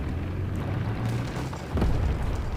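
A tank cannon shot in War Thunder Mobile, fired from a T-34E heavy armored tank: a low engine rumble drones steadily, then a deep booming blast lands near the end, loud and bassy.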